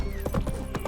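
Horse hooves in The Witcher 3: Wild Hunt, a few quick clip-clop beats in rhythm over steady game ambience, brief and close.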